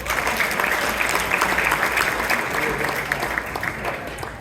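An audience at the MCC annual dinner claps in a steady burst of applause, fairly close and full, with faint voices mixed underneath.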